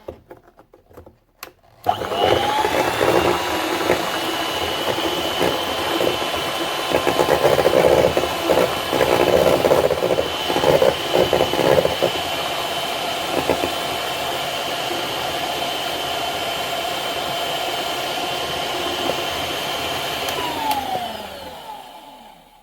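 An electric mixer blends a warm vanilla ice cream base of heated milk, running steady and loud without a break for about twenty seconds before it winds down and cuts off.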